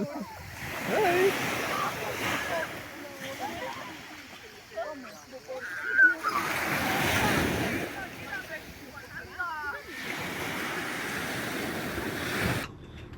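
Gentle waves of the clear Ionian Sea wash onto a beach near Lefkada, with swells rising and falling every few seconds under light splashing, close to the microphone while people talk nearby.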